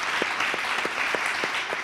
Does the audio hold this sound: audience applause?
yes